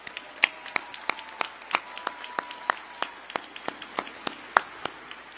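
At Central Connecticut State University's 2023 winter commencement, an audience gives scattered, steady applause: distinct individual claps ring out in a loose rhythm across a large room, with no talking.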